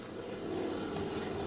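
Airplane coming in to land in a 1950 radio drama, a steady droning engine hum that builds slightly in loudness, close and continuous with no voices.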